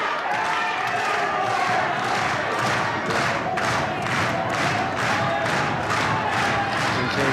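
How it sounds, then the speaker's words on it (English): A 1970s World of Sport wrestling crowd in a hall jeers at Johnny Kincaid, a dense, steady roar of boos with rhythmic slow hand claps pulsing through it, loud and continuous throughout. "Doesn't like the sound of those boos and the slow hand clap."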